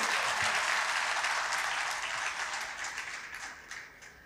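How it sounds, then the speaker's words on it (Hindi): Sustained audience applause for a poet at the 17th Aalmi Urdu Conference, dense and steady at first, then gradually thinning and fading toward the end. "कितनी तालियां बजानी चाहिए अपने ऐप की सबसे बड़ी शायरा के लिए।"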